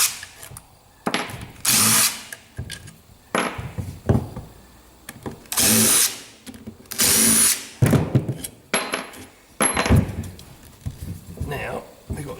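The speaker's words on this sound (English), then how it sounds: "I'm going to use my little rattle gun, because it's quicker" A small rattle gun removes bolts from a bodged alternator in short, loud bursts of hammering whir separated by pauses, close up in a workshop.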